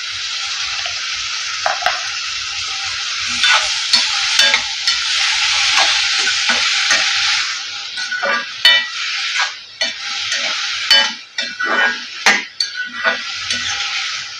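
Brinjal kochi sautéing in a pan, a steady frying sizzle broken by repeated stirring scrapes and light clinks of a utensil against the metal, close and fairly loud with no talk.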